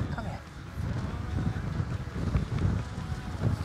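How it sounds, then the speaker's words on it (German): Strong wind buffets the microphone at a coastal lookout in Croatia during the off-season, a steady low roar with gusty swells throughout. "Bisschen windig."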